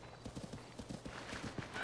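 Horse hooves clip-clopping at a brisk, steady gallop in Zelda Tears of the Kingdom, a fast speed horse, each quick hoof beat close and distinct over faint background music.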